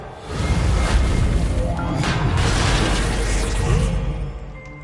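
Reparo repair spell effect in the Hogwarts Legacy video game: a loud, sustained magical whooshing swell with rumbling and clattering layers, rising quickly, holding steady for several seconds, then fading out.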